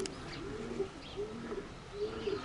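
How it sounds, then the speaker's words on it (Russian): Baku fighting pigeons coo softly in repeated low, throaty phrases, three or four rolling calls at a steady pace, fairly quiet with faint chirps in the background. "заехали в гости к моему брату Владимиру посмотреть его бойных голубей."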